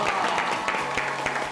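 Studio audience applause greeting a guest on a Korean TV show, brisk, even clapping at moderate level, with a voice faintly mixed in.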